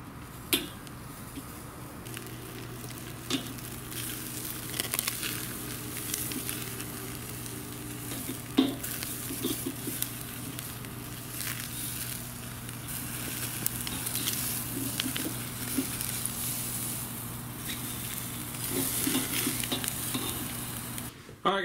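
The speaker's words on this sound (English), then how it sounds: "I got a sizzling hot pan here." Steady, crackling sizzle of venison shank searing in a hot pan, continuous and close, with a low hum and occasional clinks underneath.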